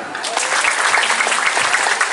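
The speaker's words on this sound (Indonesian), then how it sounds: "Kasih tepuk tangan." A short burst of dense clapping from a group of junior high students, steady and fairly loud throughout.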